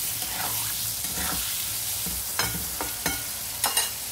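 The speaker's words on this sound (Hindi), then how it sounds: "इसे भी हाई फ्लेम पर डीप फ्राई करना है" Potatoes and peas deep-fry on a high flame with a steady, loud sizzle, and scattered stirring scrapes and clinks run through it.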